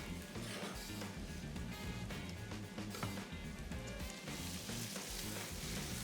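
Small cubed potatoes sautéing in a pan, a continuous dense sizzle with scattered crackles that stays quiet and unbroken, with no talk over it.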